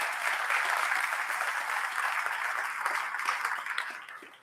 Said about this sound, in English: So let's give a round of applause to everyone for that.